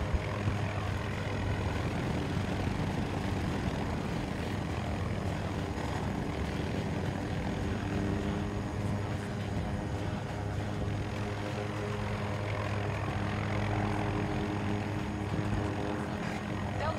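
An attack helicopter in the video game Battlefield 2042 flies overhead with a steady, dense rotor and engine drone that holds loud and even for the whole stretch, and a voice talks faintly underneath.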